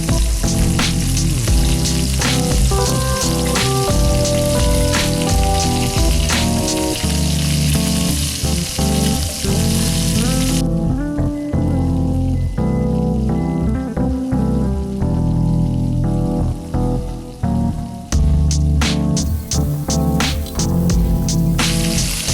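A ribeye steak sears in a hot pan, loud and close, with a dense, continuous crackling sizzle and spitting fat that holds steady for the whole stretch, dipping briefly midway as it is moved or flipped, with no voices.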